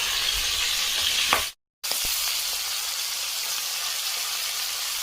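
Koi fish coated in salt and turmeric frying together in hot oil, a loud, dense, continuous sizzle close up with a brief clean gap and a couple of faint utensil taps.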